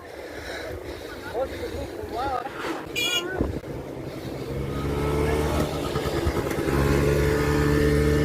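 A voice speaks briefly over wind noise on a bike ride in Kruševac, then a motor scooter's engine hums in and grows steadily louder as it draws near.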